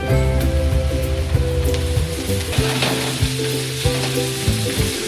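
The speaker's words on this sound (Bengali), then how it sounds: "নাড়িয়ে এবার লতিটাকে দিয়ে দিচ্ছি" Loud, steady sizzling as taro stolons are stirred into garlic, onion and green chillies frying in a pan, with rhythmic scraping knocks from the spoon and no talking.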